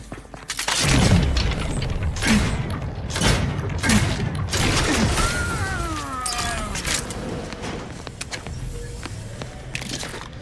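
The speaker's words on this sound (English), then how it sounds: "Explosion imminent!" An explosion in The Outer Worlds 2, with a heavy boom followed by scattered thuds, crackles and mechanical clatter that gradually die down over about ten seconds, fairly loud and close.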